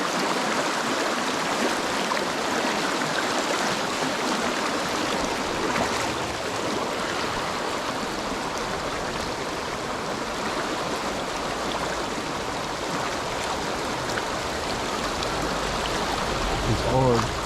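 River water rushing steadily and fairly loud, a continuous broadband wash with no breaks, heard up close throughout.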